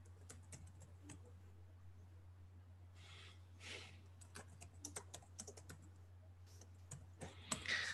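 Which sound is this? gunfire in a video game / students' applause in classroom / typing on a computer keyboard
typing on a computer keyboard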